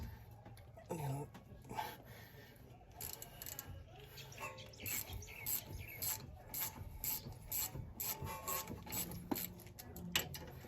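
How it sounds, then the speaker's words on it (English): Ratchet wrench loosening the 12 mm brake caliper bolts on a Honda Element, with repeated clicking and rubbing mechanical strokes close by, steady through the clip under some background noise. "first step we're gonna do is two 12 millimeter bolts. Holds the caliper on. Gonna remove that."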